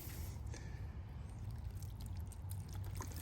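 Water poured and trickling over an 1890s bottle paver, a soft steady wet dribble and splash at close range with no talk.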